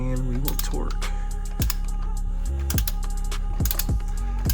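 A torque wrench tightens a bolt with a crush washer during a CVT fluid service on a Subaru TR580 transmission, giving a few sharp, close clicks over a steady tonal background hum.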